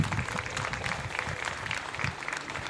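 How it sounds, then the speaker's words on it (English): Steady applause from a crowd at a New York State Little League tournament championship game, dense clapping holding at an even level for a few seconds. "Give them a nice round of"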